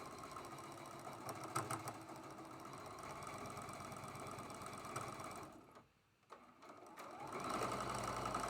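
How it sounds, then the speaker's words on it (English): A sewing machine stitches a quarter-inch quilt seam with a steady rapid mechanical whir and knocking, pausing briefly before starting up again, fairly quiet and close. "We're going to sew right there with a 1/4 inch seam allowance."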